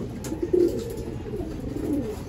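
Pigeons cooing softly inside a loft, with a couple of low murmured coos standing out over a steady, faint background hum.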